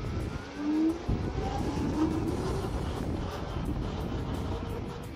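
Motor and wheel of a Kingsong S16 Pro electric unicycle sound while riding: a rising whine under steady wind rush, with a brief louder hum near the start.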